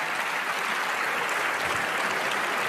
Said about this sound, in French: vous entendez les longs applaudissements pour ce texte qui prévoit la PMA pour toutes